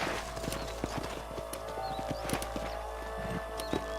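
Steady clip-clop of horse hooves at a brisk walk, close and clear, over a low constant rumble with faint bird-like chirps.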